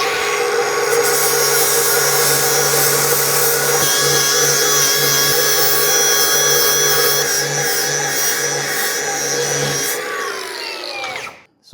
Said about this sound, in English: Now we're going to grind off this weld and shine it up.